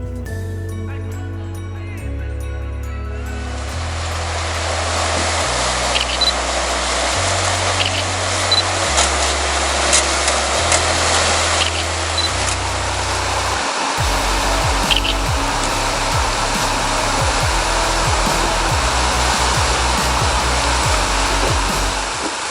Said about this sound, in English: We stopped to film the vehicles fording 6 Mile Creek